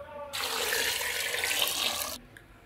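Water is poured into a pressure cooker holding potatoes and peas, a single steady splashing gush close by that lasts about two seconds before stopping abruptly.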